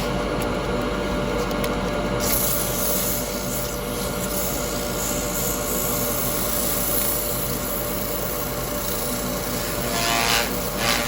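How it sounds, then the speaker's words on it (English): A wooden Christmas bauble being sanded as it spins on a lathe: a continuous broadband hiss and rub over the motor's steady hum, unbroken and fairly close throughout. "A little bit of sanding on this side again."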